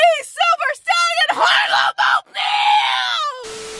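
A woman screams and whoops loudly inside her car, sustained wavering high-pitched yells broken by short gaps, close and loud, with bright voiced cries dominating throughout.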